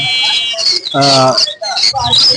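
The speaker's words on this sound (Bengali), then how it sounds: "এটা রিংনেট" A female ringneck parakeet gives a few shrill, harsh calls, close and loud, with other bird chirps around it at a bird market.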